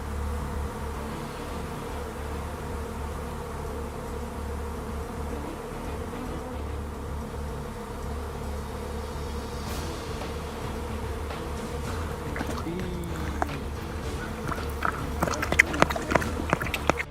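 Bees buzzing in a steady, continuous drone that holds throughout, with a few sharper rustling sounds near the end and no talking.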